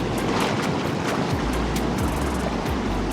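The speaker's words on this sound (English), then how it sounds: "But those waves out there are crazy." Heavy ocean surf pounds a secluded Guatemalan beach, a continuous loud roar of breaking waves with rushing wash and strong wind buffeting the microphone.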